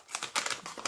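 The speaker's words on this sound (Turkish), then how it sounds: "Şimdi ölçüler belli olsun diye yeni paket açıyorum." A new one-kilo package of flour being opened, heard as a series of short, close crinkling and tearing rustles of the packaging in quick bursts.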